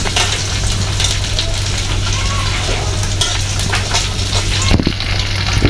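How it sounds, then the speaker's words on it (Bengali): Food frying for fish bharta gives a loud, dense, continuous sizzle up close, with a low steady hum beneath and brief clatter near the end. "এটাকে ভালো করে ভেজে নিতে হবে"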